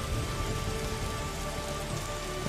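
Heavy rain from a weather effect in an Unreal Engine 5 indie horror game, a dense, steady hiss of downpour on surfaces, loud and continuous throughout with no talking.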